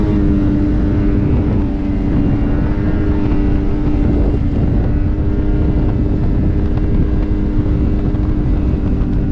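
A Ski-Doo snowmobile runs at speed on a groomed backcountry trail, its engine a loud, constant, close drone with steady rumble and no pauses.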